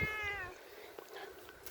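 A cat meows once, a short nearby call at the start, followed by quiet outdoor background.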